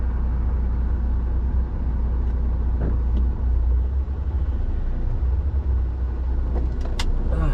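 A car on a road produces a steady low rumble that swells and fades as it passes nearby, with no voices present.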